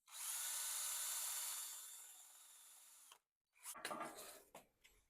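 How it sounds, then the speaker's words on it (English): A wire wheel grinds inside a cracked cast iron casting, with a loud sustained whine that fades and stops, then a burst of rougher contact and clatter. "So I'm gonna use this wire wheel and clean the inside of the casting."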